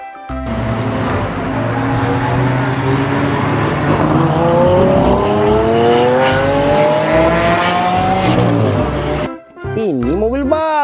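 A Lamborghini race car engine revs loudly with rising, sweeping pitch and a short drop near the end, while a person talks excitedly over it.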